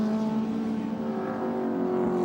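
Group A touring race cars roar past at Amaroo Park in 1987, a steady, loud engine drone with a sustained tonal whine and no break or fade across the clip.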